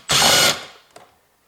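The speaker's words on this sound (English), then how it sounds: "now I use my electric driver" Electric driver with a socket spinning briefly as it loosens a bolt on a rusty BMW side mirror, a loud half-second whir followed by a faint clink.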